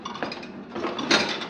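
Pots and plates are handled in a kitchen in a short burst of soft clinks and knocks of dishware, fairly close and quiet.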